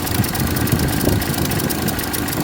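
A 1929 Ford AA tow truck with a Model A four-cylinder engine and a slight fuel leak idles close by, giving a steady, rough, loud rumble with no speech.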